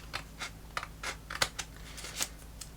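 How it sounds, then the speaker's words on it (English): Scissors trim paper close by, producing a handful of short, crisp snips spaced unevenly over a faint room hum. "I'm just going to cut it with the scissors."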